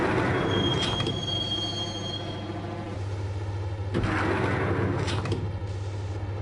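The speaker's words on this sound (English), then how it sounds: "the train doors had already shut behind me, and I was in for the ride" Steady rumble of a subway train riding along the rails in the video game Max Payne, with a sustained wheel squeal early on and rattling, clanking bursts over the constant low drone.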